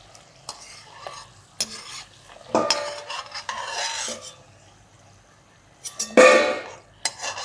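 Crispy puris being fried in hot oil in a kitchen, with sputtering bursts and utensil scrapes and clinks coming in irregular clusters, loudest near the end, no voices.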